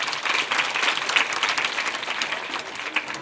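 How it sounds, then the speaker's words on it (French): Primary schoolchildren in Abobo clap together in a dense, lively burst of applause, loud and continuous throughout, with a faint crowd murmur beneath. "Applaudissez pour vous."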